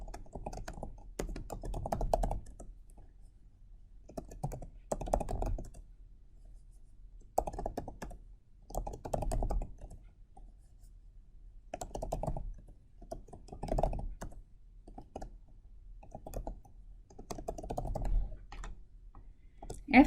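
Header row names typed on a computer keyboard in short bursts of key clicks, close and moderately loud, separated by brief pauses, with a voice talking in between.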